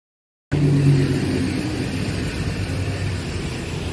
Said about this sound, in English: There's too many cars, too much traffic.